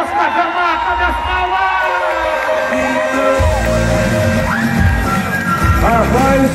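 Rodeo crowd at Cajamar shouting and cheering during bull riding, loud and near, with an announcer's amplified voice calling out over the noise throughout.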